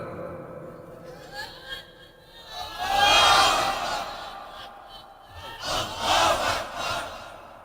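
A large crowd at an Islamic waz sermon roars out a slogan in two loud surging shouts, rising from a murmur, swelling and fading, with a preacher's voice between them.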